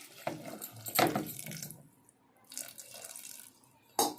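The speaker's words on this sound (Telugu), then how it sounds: "సరిపడినంత నీళ్లు పోస్తున్నానండి." Water poured into a pot holding tomato, onion, green chilli and turmeric for tomato dal, short splashing gushes in a few bursts with brief gaps, close and moderately quiet.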